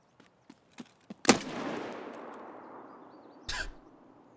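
An RFB rifle in the game Escape from Tarkov fires two sharp shots a couple of seconds apart, each with a long ringing tail, after a few faint clicks and taps.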